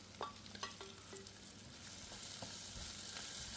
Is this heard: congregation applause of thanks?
no